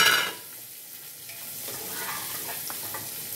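Spices crackle and sizzle in hot oil while tempering for lemon rice, with turmeric and green chili going in, a steady close frying hiss with a brief louder burst at the start and no talk.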